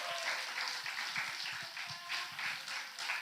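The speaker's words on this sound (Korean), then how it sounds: "여러분 우리 박수로 한번 그렇게 뜨겁게 환영해 주시면 감사하겠습니다" A church congregation at a Thanksgiving Sunday service clapping warmly to welcome a deaconess to the front, a continuous rippling wash of many hands, steady and moderately loud without pauses.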